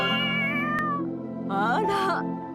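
A cat meows within the video game Root Letter, its calls rising from about 1.5 to 2.2 seconds over steady background music and game ambience.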